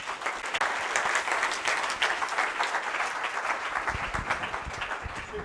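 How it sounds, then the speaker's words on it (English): A lecture-hall class gives a round of applause, a dense, steady wash of many hands clapping for about five seconds with no speech over it. "round of applause"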